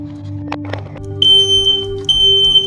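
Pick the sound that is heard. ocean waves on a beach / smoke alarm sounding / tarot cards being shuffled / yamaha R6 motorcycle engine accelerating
smoke alarm sounding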